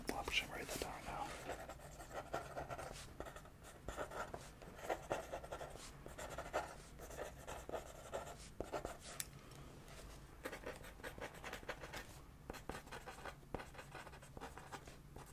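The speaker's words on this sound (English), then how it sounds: "I should write that down now." A pen scratches across paper in close, quiet strokes, with irregular bursts of writing interspersed with soft whispered speech throughout.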